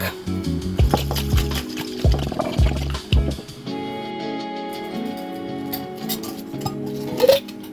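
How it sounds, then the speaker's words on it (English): A lidded jar of salad dressing with a garlic clove is shaken vigorously in rapid bursts of sloshing and rattling, then set down with a few clinks and handling sounds. "Lid on and a good shake."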